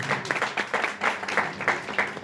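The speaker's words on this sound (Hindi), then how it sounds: "तालियां होना चाहिए।" Audience applause at an event in Goa, a moderate burst of clapping from a crowd that swells and dips in rhythmic waves, heard without talk over it.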